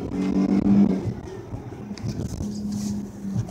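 A Dodge Charger GT engine hums at moderate volume under road noise while the driver downshifts a manual gearbox, with a brief rise in engine pitch.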